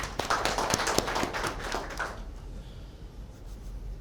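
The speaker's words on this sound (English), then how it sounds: "So big clap from him" Scattered clapping from a small audience at a Rotary gathering, a cluster of close, irregular claps over about two seconds that fades quickly into quiet room tone.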